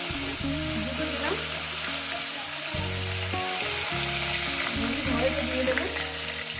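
Rohu fish heads sizzle loudly and continuously in hot oil, with tonal kitchen noise layered over the frying.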